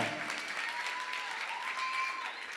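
An audience at a singing competition semi-final applauds, a dense, continuous clapping that stays fairly even and slightly distant the whole time.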